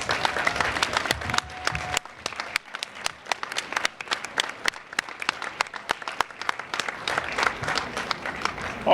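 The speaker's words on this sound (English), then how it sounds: "please stand up for a round of applause" A crowd applauds continuously at a senior summit, a dense patter of many hands clapping, loud and sustained, with a faint voice briefly underneath.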